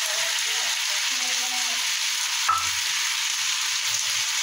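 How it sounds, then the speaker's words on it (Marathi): Gavar bhaji, cluster beans tossed with coarsely crushed roasted peanuts, sizzles softly in a pan while being stir-fried, with a steady hiss and one brief clink of the spatula midway. "चांगला असा परतून घ्यायचा।"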